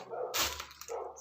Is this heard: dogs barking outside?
yes